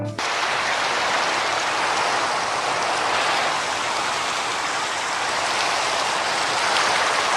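Steady, dense rainfall in a video game, a loud continuous hiss of falling drops that stays constant throughout with no voices over it.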